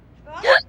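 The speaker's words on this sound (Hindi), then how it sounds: "देखो तो कितनी जानलेवा हिचकी आई है।" A single sharp, short voiced hiccup from a character in the Hindi TV comedy series Maddam Sir, rising quickly and close to the microphone against a quiet background.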